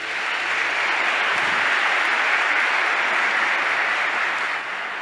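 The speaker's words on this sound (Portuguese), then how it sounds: "Uma salva de palmas para Deus" A church congregation breaks into sustained applause, a steady roar of many hands that holds evenly for several seconds before easing slightly, with no talking.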